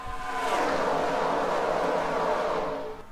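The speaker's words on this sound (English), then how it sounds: "just listen to those cars go flying by like that" A pack of race cars in a stock-car racing video game sweeps past, a loud engine roar that swells and fades over a few seconds.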